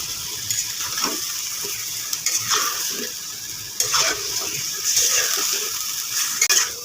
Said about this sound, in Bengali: মুরগির মাংসগুলো দিয়ে আমি কিছুক্ষণ ভেজে নেব